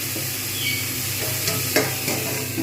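Pointed gourds frying in oil in a pan as they are stirred, a steady close sizzle with brief scraping strokes, no voices.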